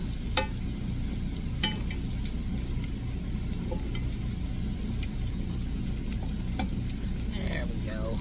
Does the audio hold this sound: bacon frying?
yes